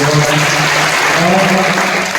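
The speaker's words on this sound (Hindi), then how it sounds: "एक बात ताली बजा दें इनके लिए।" Audience at a Lions Club education and health camp in Kharsia applauds a police officer, a loud, dense burst of clapping sustained throughout with faint voices beneath.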